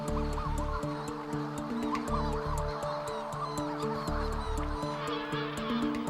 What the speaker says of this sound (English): Manx shearwaters are relatively small seabirds